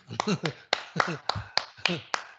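Hand claps struck one at a time in an uneven rhythm, about a dozen sharp close slaps over a couple of seconds, with a voice speaking between them during a French-language church sermon.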